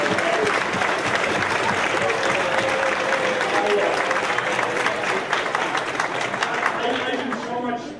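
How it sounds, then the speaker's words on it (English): Sustained audience applause fills a room at a speaking event, dense and steady throughout, with a hint of voices mixed into the crowd noise. "They deserve a round of applause"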